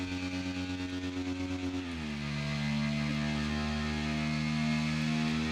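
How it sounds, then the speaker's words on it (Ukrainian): A new motorcycle hums steadily as it is ridden, its engine tone dropping and settling at a lower pitch partway through, a continuous close mechanical drone with no talking. "Я зараз ось їду на мотоциклі, ось новенький мотоцикл вже купив"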